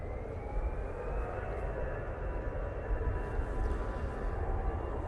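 A Cathay Pacific Boeing 777-300ER on short final into Manchester Airport, inbound from Hong Kong, gives a steady broadband jet roar that holds even throughout, fairly distant and without talk.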